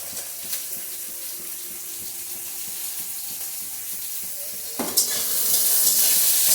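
Chopped onion, ginger, garlic and green chili frying in a pan for potato cutlets, a steady close sizzle with light rhythmic tapping, then a sudden louder, brighter hiss near the end.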